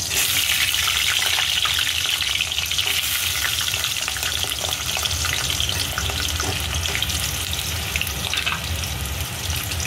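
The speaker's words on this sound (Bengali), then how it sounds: "এখন এই তেলের মধ্যেই আমি আলুগুলো ডিমে ডিমে করে কেটে নিয়েছি" Cubed potatoes fry in hot oil for a spicy jackfruit curry, giving a steady, close, busy sizzle and crackle that runs continuously throughout with no talking.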